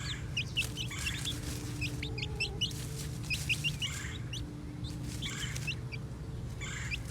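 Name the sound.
chickens clucking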